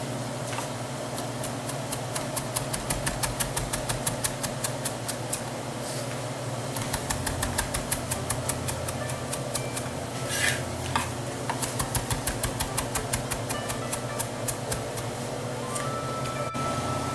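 A knife rocking through fresh basil on a cutting board makes a fast, even run of light taps, pausing briefly before resuming at the same steady pace.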